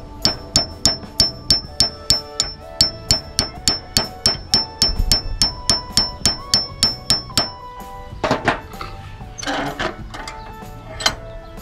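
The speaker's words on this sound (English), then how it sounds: "So now we're just gonna hit it with the hammer" A hammer drives a hitch pin into a well nut with about two dozen sharp metallic strikes at a quick, even rhythm, ringing close and loud. A few heavier, irregular knocks follow near the end.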